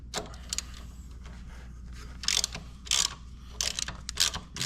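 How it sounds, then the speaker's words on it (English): Ratchet working loose the motor mount bolts on a 2009 Harley-Davidson Dyna, a few short bursts of clicking separated by pauses over a steady low background hum, close and fairly quiet. "we're gonna loosen these two final bolts"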